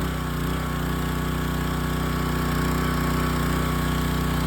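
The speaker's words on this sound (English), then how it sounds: "you can tell the engine is not surging. It's got great power." A power washer engine runs steadily under load with a new carburetor fitted. It gives a loud, even mechanical drone with a continuous hum and no surging, and no one talks over it.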